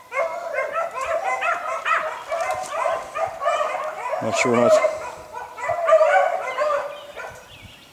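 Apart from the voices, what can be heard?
pack of hunting dogs barking and yipping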